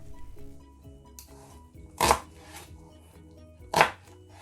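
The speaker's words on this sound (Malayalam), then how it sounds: "അപ്പോൾ ഞാൻ സവോള ഒന്ന് കട്ട് ചെയ്തെടുക്കട്ടെ." A knife chops a medium-sized onion on a board in a home kitchen, two loud distinct strokes with lighter taps and scraping between them, close and alone without talk.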